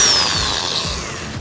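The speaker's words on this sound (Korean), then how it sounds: "선 홈통으로 물이 떨어질 수 있도록 홀소로 이렇게 구멍을 내도록 하겠습니다" A hole saw drills through a rain gutter, a loud, continuous whirring grind over a short stretch that fades slightly toward the end.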